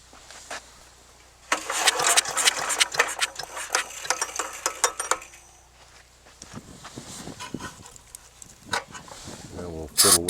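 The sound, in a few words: chipper/shredder engine firing up and running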